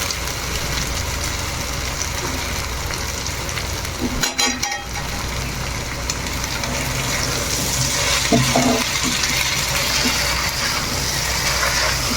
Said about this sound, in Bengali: এবার এর মধ্যে আমরা সেই সেদ্ধ করে রাখা নুডলসগুলো দিয়ে দিব।